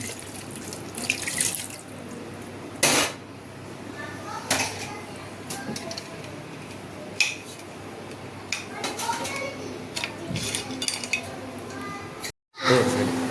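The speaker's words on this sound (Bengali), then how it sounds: "সামান্য একটু জল দিয়ে দিলাম।" Water from a tap runs into a sink while beef is cooking, with pots and utensils clinking now and then. The pouring is steady and close, with a few brief pauses.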